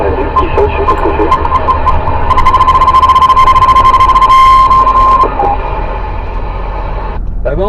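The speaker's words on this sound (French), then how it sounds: "J'ai un bip qui saute, je sais pas ce que c'est." A high, steady electronic beep sounds intermittently on a CB radio transmission, then runs as a long unbroken tone for several seconds over a crackly, hissing channel with a voice talking faintly underneath.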